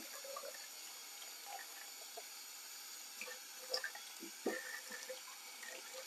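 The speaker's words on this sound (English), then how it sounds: "Cold water, give it a wash." Cold tap water runs steadily into a kitchen sink as food is rinsed for a gaucho pie, a quiet continuous stream with a few soft splashes and clatters near the end.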